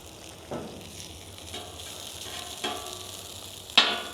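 Butter sizzling with hash browns on a griddle, a continuous close crackle punctuated by a few sharp spatula scrapes and taps, with no talk.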